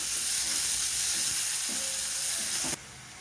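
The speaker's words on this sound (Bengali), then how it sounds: "পেঁয়াজটাকে একটু লাল করে ভেজে নেবো" Onion frying in hot oil in a pan for an egg curry, a steady loud sizzle and hiss that drops abruptly just before the end.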